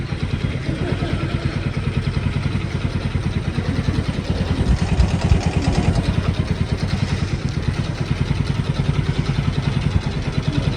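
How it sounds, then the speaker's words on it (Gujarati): A motorcycle engine runs at idle up close after being started, a steady rhythmic putter with a mechanical clatter throughout and no talk. "ફાઇનલી ગાઈસ ગાડી સ્ટાર્ટ કરી દીધી છે."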